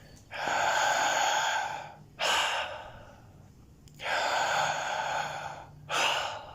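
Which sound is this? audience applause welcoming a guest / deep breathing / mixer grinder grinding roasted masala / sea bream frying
deep breathing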